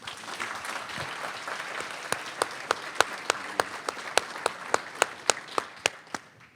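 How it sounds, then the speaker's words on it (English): A lecture audience applauds in a moderately sized hall, a soft bed of scattered clapping over which a few nearby hands beat out sharp, evenly spaced claps that grow more distinct before fading out. "I think that deserves a round of applause"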